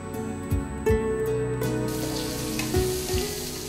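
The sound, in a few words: onions frying with turmeric in oil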